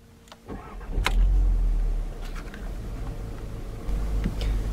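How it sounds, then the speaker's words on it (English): A 2014 Volkswagen Golf GTI started with a key: a short starter whir leads into the engine catching with a loud low surge, then settling into a steady idle rumble. "just apply the clutch and turn the key to power on the car"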